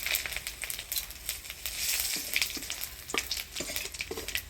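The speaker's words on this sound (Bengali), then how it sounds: "এবার ডালের মধ্যে ফোড়ন দিয়ে দিব শুকনো লঙ্কা তেজপাতা মৌরি আর গোটা জিরা" Dry red chillies, bay leaf, fennel and whole cumin hit hot oil as a tempering for dal, giving a steady crackling sizzle with sharp spits and pops throughout, close and moderately loud with no talk.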